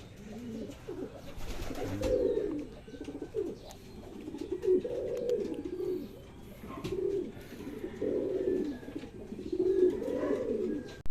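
Racing pigeons back at the loft after a 57 km training flight in Zaragoza, Nueva Ecija, coo in repeated low rolling phrases over faint background noise, with no talking.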